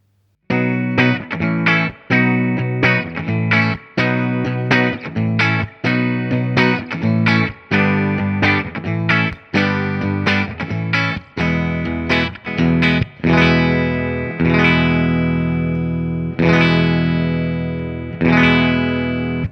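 Electric guitar through Boss buffer pedals with a slightly gritty, effected tone strums a rhythmic run of chords, then lets the last few ring out longer, played alone.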